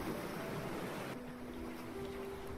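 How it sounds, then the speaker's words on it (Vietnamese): Rough, choppy sea at an offshore island fishing anchorage in Quảng Bình, with a fishing boat rocking on it: steady broadband wash of waves and wind, with a low engine-like drone running throughout, no talk. "biển khá động"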